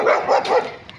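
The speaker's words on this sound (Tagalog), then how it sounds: "Ayun, aso." A dog barks three times in quick succession, fairly loud and close, followed by a quieter trailing yelp in an outdoor compound area near a waterway.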